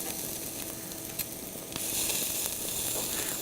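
Lamb shish kebab skewers sizzle steadily on the heat, a close, continuous crackling hiss that swells slightly louder partway through, with no talking.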